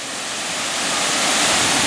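Kintampo Waterfalls in Ghana pour in a dense, steady roar of rushing water, loud and close, swelling slightly over a brief moment with no voices.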